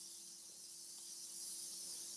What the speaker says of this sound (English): I'm spraying a little grey line